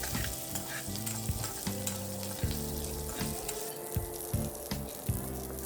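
Steady close sizzling of onions sautéing in a hot pan, with repeated scraping and clacking as the pieces are stirred.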